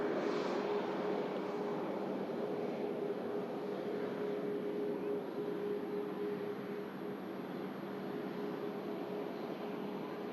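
Virgin Atlantic Airbus A330 airliner on the move at Manchester Airport, a steady broad jet roar with a faint whine, distant and continuous throughout, no talking.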